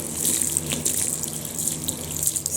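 Tap water runs steadily into a sink while a makeup sponge is rinsed under it, a close, continuous splashing hiss with slight shifts as the sponge moves through the stream.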